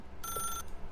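Telephone ring in the video game The Stanley Parable: Ultra Deluxe, a single short electronic trill under half a second long, fairly faint over a low background hum, with no talk.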